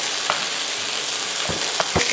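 Beef frying in a pan for French beef stew, a steady close sizzle with a few soft clicks and stirring taps.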